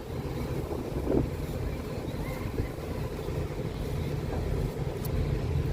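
Steady wind blowing by the sea on a mild, breezy day at the coast, a continuous broadband rush with microphone buffeting, loud and unbroken throughout with no voices.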